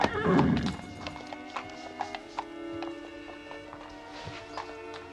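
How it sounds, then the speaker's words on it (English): A horse whinnies loudly at the start, followed by hooves clip-clopping at a steady walk on hard ground. "I'm the only one with a horse like Shoscombe Prince."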